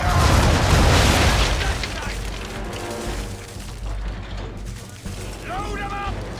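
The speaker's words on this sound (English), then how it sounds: "Bring her round broadside, and when all guns are on target, call fire." A ship's cannons fire a broadside in Assassin's Creed III, heavy booms rolling out at the start and fading into rumbling, with voices shouting orders and creaking mechanical sounds of the ship around them.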